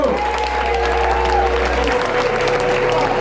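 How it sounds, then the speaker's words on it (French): Audience at a live comedy show applauding loudly and steadily, a dense wash of clapping that fills the whole stretch, with a low hum dropping away partway through. "Alors on peut applaudir bien fort Nicolas Del Pozzo."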